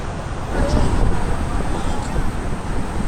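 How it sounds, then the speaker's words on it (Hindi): Strong wind blows across an outdoor poolside area near the ocean in South Africa at dusk, making a loud, continuous buffeting rush close to the microphone. "तो गाइज़ काफ़ी तेज़ हवा चल रही है"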